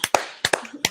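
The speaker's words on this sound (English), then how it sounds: "Have a quick Michael Bowers clap." A quick run of sharp, close hand claps, five or six crisp slaps in under a second with uneven spacing.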